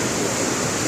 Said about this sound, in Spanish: Esta majestuosa caída de agua.